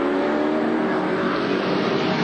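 A race car passing during the 1982 AMSCAR round at Amaroo, a sustained loud engine drone at high revs, steady and close throughout.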